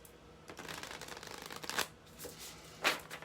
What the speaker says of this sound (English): Very gentle shuffles today from the energy.